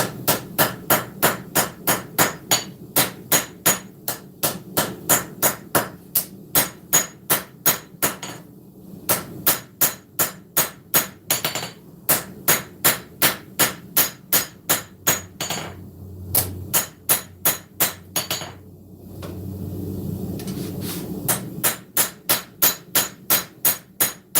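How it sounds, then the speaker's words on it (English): A hammer planishes a forged knife blade on an anvil, striking in a fast, steady rhythm of loud, close metallic blows with brief pauses between runs. "go ahead and do a little bit more planishing, smoothing"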